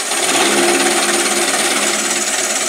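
A wood lathe spins at about 500 RPM as a OneWay coring system cuts into a wooden bowl blank, a loud, steady, dense grinding roar that holds without a break throughout.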